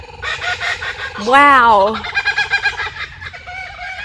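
Chickens cluck and call outdoors, close and loud, with one long rising crow-like squawk near the start, then a rapid run of clucks; a brief spoken exclamation is heard.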